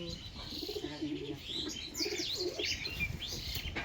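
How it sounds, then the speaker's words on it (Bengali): Two pigeons carried out by hand at a home loft give soft coos and faint chirps with brief wing flutters, quiet and close, with ambient noise. "আর দুটো পায়রা নিয়ে আসছি, দেখুন।"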